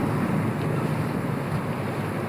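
Steady wind noise and rushing water from waves around a sailboat under way at about 7 knots, a continuous loud broadband roar with no talk.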